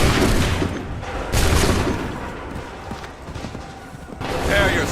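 A volley of gunfire on command: dense, overlapping bangs and booms that swell, fade, then rise again, loud and chaotic with no clear single shots.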